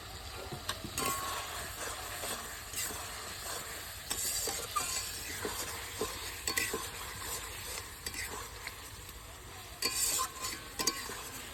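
Boal fish stirred and fried in a cooked-down spice paste, giving a steady close sizzle with scraping stirs throughout, no talking.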